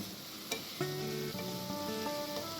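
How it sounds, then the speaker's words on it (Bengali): Spices frying in hot oil for a Bengali-style crab malai curry, stirred in the pan: a steady close sizzle with a sharp clink near the start, then scraping and tonal ringing from the utensil against the pan, no talk. "এগুলো মশলাগুলোকে ভালো করে এবারে ভেজে নিতে হবে"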